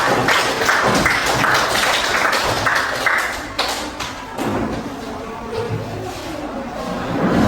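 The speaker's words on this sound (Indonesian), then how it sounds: "silakan kasih tepuk tangan untuk mereka." A crowd claps together, a dense burst of applause that swells, dips briefly in the middle, then carries on.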